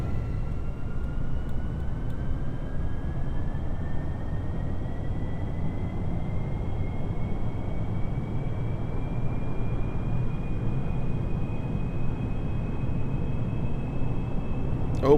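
A spacecraft engine runs at full throttle during launch in Kerbal Space Program, a steady, continuous roar with a faint rising whine above it, holding at an even loudness throughout.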